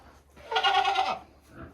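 A buck goat gives a single loud, close bleat lasting about half a second, with quieter shuffling before and after.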